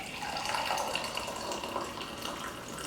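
Water pours over lemon juice in a glass, a steady, soft, hissing splash that runs evenly throughout with no talking.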